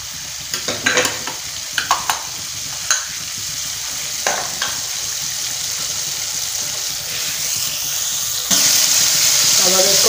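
Masala fries in hot oil with white lobia beans stirred in, giving a continuous loud sizzle broken by several sharp spoon scrapes and clatters, then a surge of stronger hissing near the end while a person talks intermittently.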